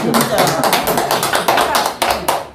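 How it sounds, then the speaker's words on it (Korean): Audience clapping at a senior citizens' talk on making policy proposals, a dense patter of hands with louder individual claps standing out, close and steady throughout, with voices mixed in. "박수."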